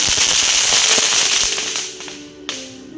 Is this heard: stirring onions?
no